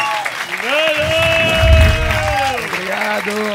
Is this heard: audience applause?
yes